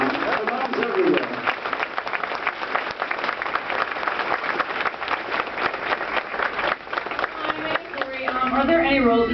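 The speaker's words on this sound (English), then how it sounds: "please applaud for my mom" Audience at an interview-style event breaking into sustained, dense applause that carries for several seconds, with talking before and after it.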